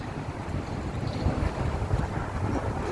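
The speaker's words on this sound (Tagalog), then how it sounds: "Sobrang lakas ng hangin kasi." Strong wind buffets the microphone in a continuous, rough roar with gusty swells, no voices present.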